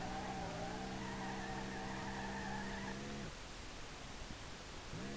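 A car engine in the racing game SLRR holds a steady, buzzing high-rev note at the red line for about three seconds, cuts out abruptly, then briefly returns near the end.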